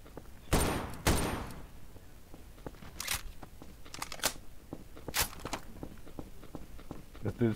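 Gunfire in a GTA roleplay game: a sharp pair of close shots followed by scattered, fainter single cracks and footsteps at irregular intervals.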